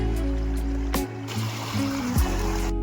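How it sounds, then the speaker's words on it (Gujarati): Lake water flows steadily through an irrigation channel into a groundnut field, giving a continuous rushing wash with a low mechanical hum and a few faint knocks. "તલાવનું પાણી જો કે આવે છે"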